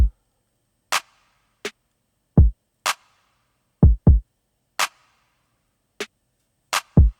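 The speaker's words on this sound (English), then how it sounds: "I also added a snare on some of the upbeats" Sparse programmed beat from a studio session, with deep kick thumps and crisp snare hits landing on some of the upbeats, an irregular pattern of about eleven dry, isolated hits with silence between them.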